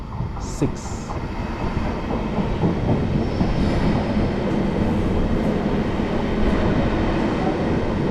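Steady rumble of a train moving through Dresden station in Germany, with rolling wheel noise and a couple of brief high squeals early on.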